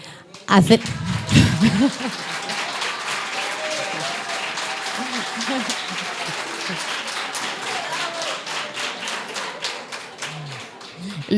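Audience applause in a lecture hall, a dense wash of clapping that swells after a couple of thumps and holds steady for about ten seconds, fairly loud and close.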